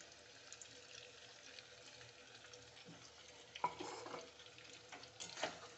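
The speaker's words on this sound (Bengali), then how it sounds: "টমেটো দিয়ে একটু নাড়াচাড়া করে এবার একটু নেড়ে চেড়ে এর মধ্যে আমি আদা আর রসুন কুচি দিয়ে দেব।" Tomatoes with ginger and garlic being stirred in a frying pan, a soft steady sizzle under scraping utensil strokes, with a few sharper clatters near the end.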